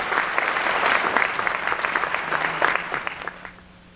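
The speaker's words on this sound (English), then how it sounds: "Please give them a round of applause." An audience at a concert-season lecture applauds its sponsors with a dense, loud burst of clapping that holds steady, then thins and fades out near the end.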